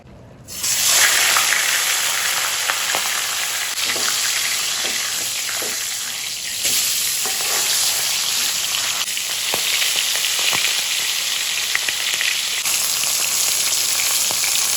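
Prawns frying in hot oil in a pan crackle in a loud, steady sizzle, with scattered sharp pops throughout and no voices.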